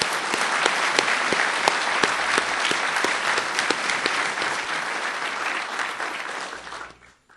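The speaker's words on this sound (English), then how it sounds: "So let's give everyone a big round of applause." Sustained applause fills a hall at a mathematics graduation ceremony, a dense steady crowd of clapping hands that fades out near the end.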